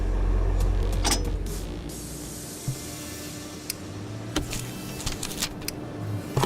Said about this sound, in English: Let's just lower the car first.